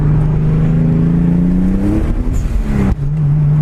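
A Toyota Supra MK4 turbo engine revs hard under acceleration on a wet road, its loud drone climbing steadily in pitch. A brief drop follows at the shift before the engine pulls again, very close and with no talking.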